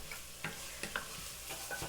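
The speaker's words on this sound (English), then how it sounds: "we're just going to saute this onion a little bit, about 5 minutes on medium heat" Chopped onion sautéing over medium heat in a pan for beef and bean chili gives a soft, low sizzle with intermittent stirring scrapes, quiet and close with no voices.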